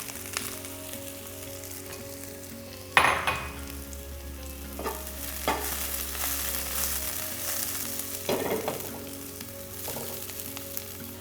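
Small broccoli florets fry in oil in a pan with a steady close sizzle, broken by several sharp clacks and scrapes of stirring, with no voices.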